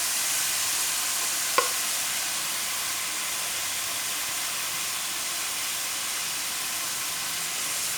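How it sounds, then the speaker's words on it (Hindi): Sweet vermicelli seviyan with fried dry fruits cooks in a pan over a low flame, giving a steady, even sizzling hiss throughout, with a single faint clink early on and no talking. "अब अच्छे तरीके से मिक्स करेंगे।"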